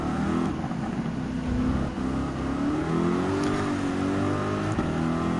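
Porsche and Ferrari race cars running side by side in Gran Turismo 7, a loud, steady engine drone with shifting pitch and no pauses, heard alone.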